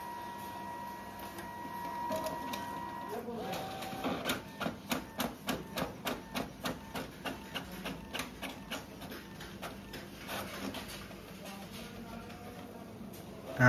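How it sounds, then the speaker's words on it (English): A Brother DCP-T820DW inkjet printer feeding paper for duplex printing: a low mechanical hum gives way to a steady train of evenly spaced clicking pulses as the sheet is drawn back in, then a softer whirring, close and without talk. "it is taking the paper inside to print the second part of the page"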